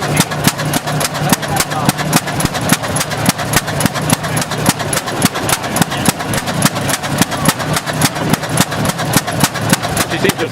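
An old tractor engine runs at a tractor show, a loud, close, steady chugging with a quick regular beat that continues unbroken throughout.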